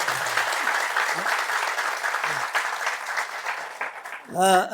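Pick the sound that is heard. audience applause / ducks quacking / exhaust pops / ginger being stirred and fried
audience applause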